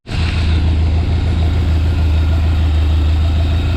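A Chevy 283 V8 idles loud and close, a steady low throbbing rumble with an even, continuous rhythm and no talking.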